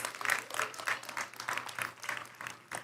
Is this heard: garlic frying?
no